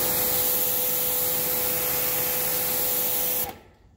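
Sun Joe SPX4600 3000 PSI pressure washer spraying through a 15-degree nozzle, a loud, steady, close hiss with a constant motor whine that cuts off abruptly near the end, with no talking.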